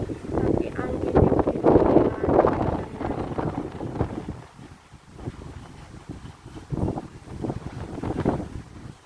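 Strong wind gusts buffeting the microphone outdoors at a scenic spot with no rain, a loud continuous rumbling roar that swells and dips throughout.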